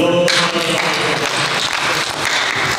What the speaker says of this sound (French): Mais on applaudit.